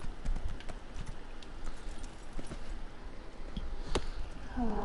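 A horse's hooves clip-clop steadily at close range in the Elder Scrolls Online video game, a rhythmic trotting beat over a dense background of game ambience, with a brief brighter accent near the end.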